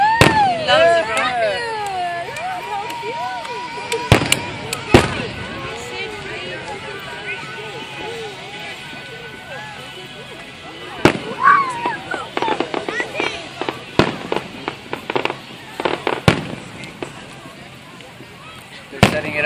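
Sharp fireworks bangs at a July 4 display, scattered irregularly and getting denser toward the end, with children and adults talking throughout and crackling between the louder pops.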